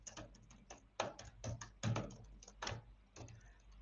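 Fingers type on a computer keyboard in an uneven run of sharp clicks and taps, some keys struck harder than others, close and fairly quiet with no speech.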